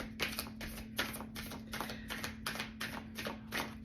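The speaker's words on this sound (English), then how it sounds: "one more shuffle" A tarot card deck is shuffled by hand in a steady run of quick, crisp riffling bursts, about ten in a row, close and fairly quiet over a low steady hum.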